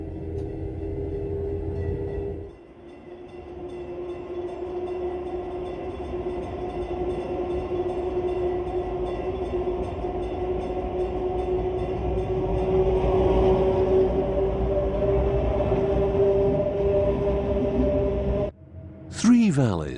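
Bernina Express train of the Rhaetian Railway running through Swiss alpine valleys, a steady loud rumble and drone of rolling wagons with a sustained tonal hum, ending in a sudden cutoff and a brief sharp squeal.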